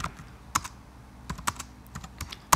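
Someone types C++ code on a computer keyboard in bursts of crisp, close clicks. Short pauses break up the keystrokes, which play alone against a quiet background.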